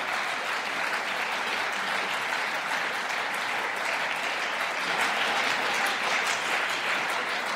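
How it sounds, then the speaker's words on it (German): Steady applause from a party convention audience at a programme convention of the German left, even and moderately loud throughout, with no talk over it. "Applaus"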